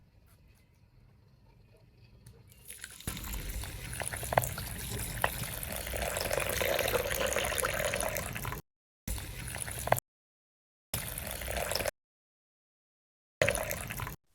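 Water gushes from a tap over lentils in a pot while haleem is being prepared, a loud, steady rushing stream close by, cut by a few abrupt silences toward the end.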